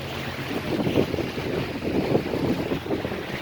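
A boat moves across the Andaman Sea, its hull and engine rumble blending with waves and heavy wind buffeting, a steady, pulsing roar with no voices.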